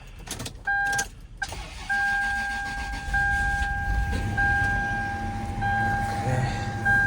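An F150 or Land Cruiser at a car auction in 19-degree cold and wind, its starter clicking before the engine catches into a steady idle with a sustained whine, recorded close.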